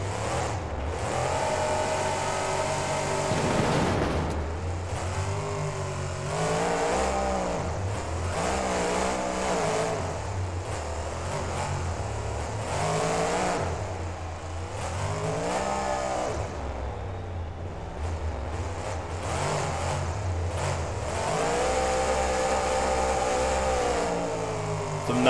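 A monster truck engine in BeamNG roars and revs continuously around a stadium freestyle course, rising and falling in pitch as it accelerates, launches off ramps and lands, loud and close throughout.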